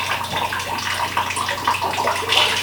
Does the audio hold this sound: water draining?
yes